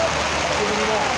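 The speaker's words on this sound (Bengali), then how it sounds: "ওরে বৃষ্টি রে" Heavy rain pours down at a market stall selling green chillies, a dense, loud, continuous hiss of falling water with voices talking under it.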